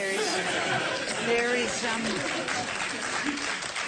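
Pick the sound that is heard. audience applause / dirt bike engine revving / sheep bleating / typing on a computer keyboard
audience applause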